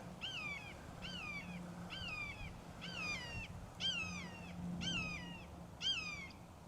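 A hawk calls from the top of a cottonwood tree, a series of seven sharp, descending screeching cries at even intervals, moderately distant over a low background hum.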